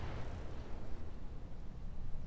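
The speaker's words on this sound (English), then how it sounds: "RL 15 explosion." A dense, rumbling roar of an RL 15 rocket explosion in the mech combat video game Roguetech fills the whole moment, loud and continuous without any talk.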